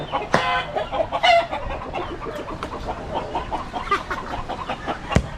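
Chickens cluck loudly and repeatedly up close, with a few sharp squawks standing out, and no talking over them.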